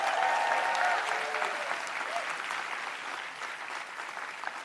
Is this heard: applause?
yes